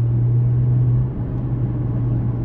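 A BMW 1M's engine holds a low, steady drone through a U-turn, a constant close rumble with a slight dip partway through and no voices over it.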